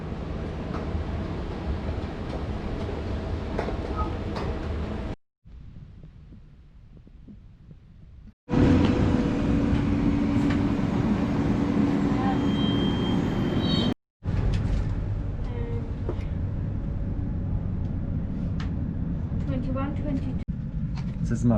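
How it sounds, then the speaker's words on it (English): Interior of a moving Swiss train: a steady low rumble and hum runs throughout, briefly dropping away twice, while people talk over it. "This is my first time on a Swiss train."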